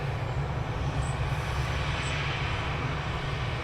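A TUI airliner taxiing out at Manchester Airport, a steady low engine rumble and broad whooshing hum heard from a distance, continuous and without talk.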